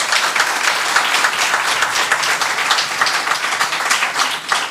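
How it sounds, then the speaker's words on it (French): A studio audience claps for a sound technician joining a local television programme, steady dense applause at moderate level throughout with no talk over it. "On l'applaudit très fort."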